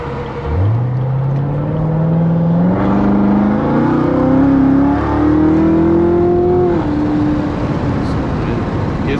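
Corvette Z06 engine revving up and accelerating hard, heard from inside the car: a loud rising engine note climbing steadily through the gears with brief shift dips over road rumble.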